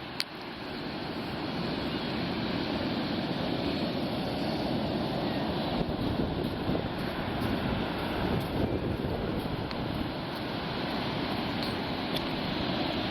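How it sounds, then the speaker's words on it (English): Atlantic Ocean surf at Fire Island National Seashore, Smith Point on Long Island, New York, a continuous roar of breaking waves mixed with wind buffeting the microphone, steady and fairly loud throughout with no talking. "that's our visit here to the Fire Island National Seashore,"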